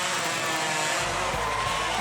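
Hot saw racing at a lumberjack competition in Bath, New Brunswick: a loud, continuous high-revving two-stroke engine roar that drops to a heavier, lower cutting drone partway through, with no pause.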